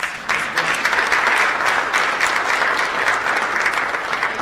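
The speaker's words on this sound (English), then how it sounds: "Let's give that a round of applause." Sustained audience applause fills a school district State of the Schools address, a dense, steady wash of many hands clapping at close range for the whole stretch with no talk over it.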